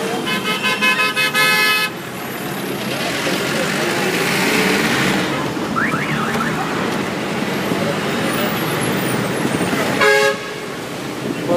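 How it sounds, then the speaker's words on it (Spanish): Car horns blare repeatedly amid busy street traffic on Avenida Abancay in Lima, Peru, with long honks at the start and another near the end over a constant engine and road noise. "Bocinas por todos lados."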